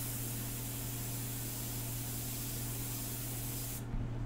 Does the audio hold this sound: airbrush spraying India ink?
yes